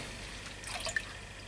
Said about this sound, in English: So all I do is I just dip them in water,